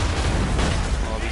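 Cannon fire rumbles through a battle in the video game Assassin's Creed III, dense low booms blending into a continuous roar under a voice talking over it.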